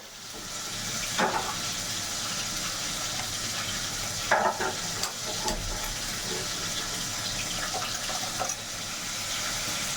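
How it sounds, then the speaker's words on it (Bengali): Fish fry in a pan with a continuous close sizzle, broken by a few brief clatters and stirring taps, with no voices. "এদিকে দেখো এখন মাছগুলো ভেজে নিচ্ছি"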